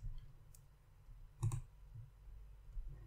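Faint, sparse clicks of typing on a computer keyboard in a quiet room, a few separate keystrokes with one brief sharper cluster.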